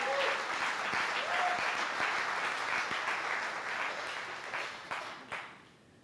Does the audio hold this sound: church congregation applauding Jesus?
yes